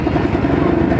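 An M11 motorcycle with a four-speed engine runs loud and close in a brief burst, a rough steady engine rumble with fast pulsing and no gaps.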